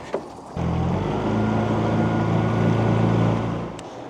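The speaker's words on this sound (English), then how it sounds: "I'm just gonna use the main motor to get up there" The main outboard motor of a fishing boat starts up with a click and then drones steadily at close range for about three seconds before easing off. No voices.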